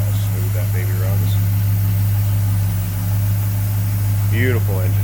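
1964 Ford Galaxie 500 XL convertible engine idling smoothly, a steady low hum held throughout while someone talks over it.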